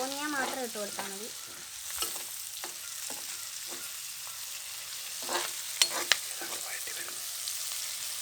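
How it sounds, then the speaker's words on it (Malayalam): Ingredients sauté in a pan with a steady soft sizzle throughout, broken by scraping stirs and a few sharp utensil taps; a voice is briefly heard near the start. "നല്ലപോലെ വഴറ്റുക."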